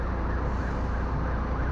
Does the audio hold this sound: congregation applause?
no